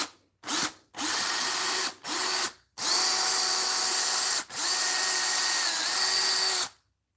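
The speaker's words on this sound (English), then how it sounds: "I got to put a hole in the pillbox now." A power drill bores a hole in a pillbox, close and loud, running in short bursts at first and then longer whining runs with a steady motor pitch, separated by brief silent pauses.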